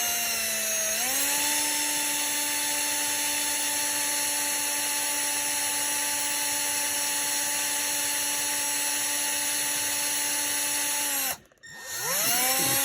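A power drill whines steadily as it bores into a C6 Corvette sun visor during an LED vanity lamp install, loud and close, its pitch holding level before the bit breaks through and the motor cuts off abruptly near the end.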